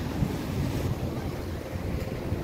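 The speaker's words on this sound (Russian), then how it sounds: "Сегодня море штормит. Волны высокие." Stormy sea at Odessa with high waves breaking and strong wind buffeting the microphone, a constant loud rushing roar with low rumbling surges throughout.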